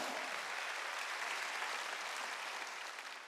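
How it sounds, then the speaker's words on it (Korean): Congregation clapping during a Korean Wednesday church worship service, a dense steady wash of applause heard alone, fading slightly toward the end. "박수 치네"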